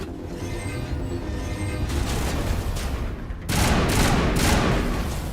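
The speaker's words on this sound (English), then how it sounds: "Oh, it's a 3-round burst gun." A gun fires in three-round bursts in the video game Mass Effect Legendary Edition: loud, dense bursts of rapid gunfire start abruptly and continue over a steady background din.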